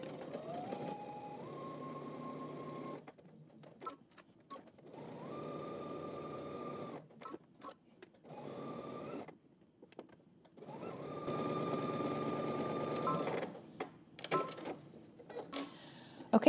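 Sewing machine stitching a pocket seam for McCall's pattern 8367, running in three long bursts of steady whirring with short pauses and faint handling noises between them.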